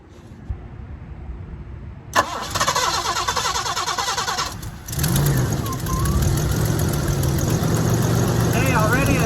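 A car engine cranks and catches after new coil wires are fitted, a sharp start followed by a brief dip, then a loud, steady idle that settles and holds to the end while a voice talks over it.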